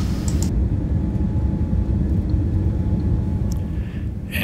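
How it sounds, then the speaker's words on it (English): A Boeing 787 Dreamliner touches down at Brisbane, heard from inside as a loud, steady cabin rumble throughout, with no distinct impact standing out. "And here we are touching down in Brisbane."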